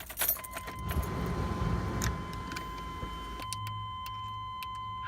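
Car keys jangle inside a car in a few quick metallic jingles, close and crisp, over a steady low hum from the vehicle.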